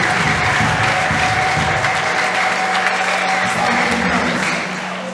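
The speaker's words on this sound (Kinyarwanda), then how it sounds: "komera Imana amashyi atunesheje." Congregation at a Sunday church service applauding steadily, a dense sustained clapping with a faint sung or spoken tone running through it, easing off slightly at the end.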